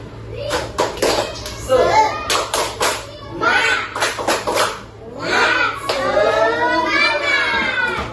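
A standing class of students performs the tepuk semangat spirit clap in a Catholic religion lesson, with bursts of rhythmic group clapping in patterned runs mixed with children's chanting voices and a teacher's voice.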